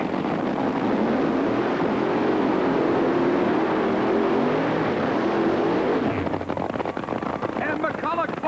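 Funny Car drag racing launch at the 1987 NHRA Cajun Nationals, Ed McCulloch against Kenny Bernstein in the second round of Funny Car Eliminator: a loud, steady engine roar, with a commentator talking over it.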